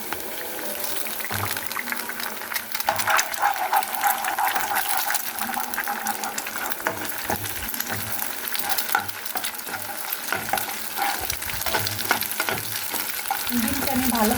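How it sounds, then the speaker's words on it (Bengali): An egg fries with onions in a pan, producing a continuous hiss and crackle with scattered stirring clatter, moderately loud throughout. "ডিমটা আমি ভালোভাবে ভেজে নিব"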